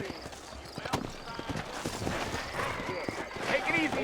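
Horse hooves clip-clop steadily in the Red Dead Redemption video game, set in New Orleans, as the horse moves at a walk, fairly close and moderately loud, mixed with ambient game sound and a character's voice speaking over it.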